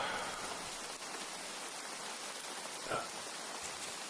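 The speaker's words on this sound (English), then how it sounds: "Enjoy the rain." Steady rain falls in the Grimshire video game, an even hiss of drops with no voices, moderately loud and continuous throughout.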